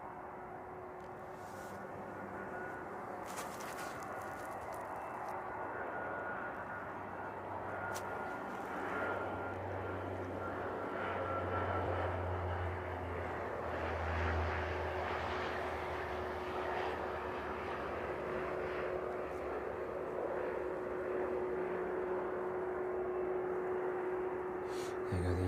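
A DHL Boeing 767 taxis toward the cargo apron at East Midlands Airport in the evening, its jet engines a steady, moderately distant roar that swells slightly midway and holds to the end.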